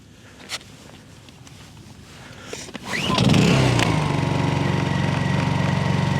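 Inverter generator heard from about 25 feet away as it settles on low idle: faint outdoor ambience at first, then a steady, moderately loud engine hum with a low droning tone from about three seconds on.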